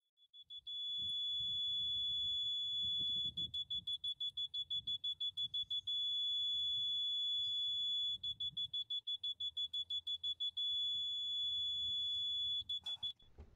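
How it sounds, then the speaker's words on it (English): Rycom 8879 cable locator in guidance mode, emitting a high electronic tone that alternates between fast regular pulsing and a steady continuous beep, with faint low handling noise beneath. "Guidance mode offers a pulsing tone on the left side of the target and a continuous tone on the right side."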